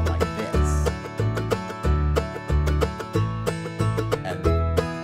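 Strum Machine's bluegrass band backing with heavy rhythmic strum accents, punchy chopped strums over a bouncing bass in a quick, steady groove, loud and alone.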